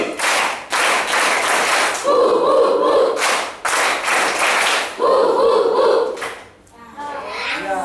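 Children at a church kids' session clap together in a rhythmic pattern, loud bursts of unison claps alternating with short chanted or spoken sections, the group near and energetic.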